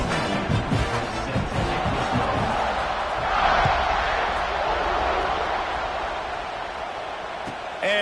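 Stadium crowd noise from the football video game Madden/NCAA, a steady dense roar that swells briefly at the kickoff, with a commentator talking over it.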